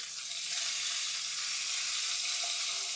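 Peanuts, green chilies and ginger sizzle and fry in a hot pan, a steady bright crackling hiss that stays loud and even throughout with no talking.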